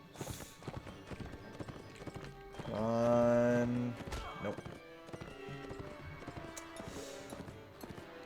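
Horse hooves clip-clopping in the Mount and Blade Warband video game, with a loud whinny or neigh standing out in the middle of the busy gameplay mix while someone briefly talks over it.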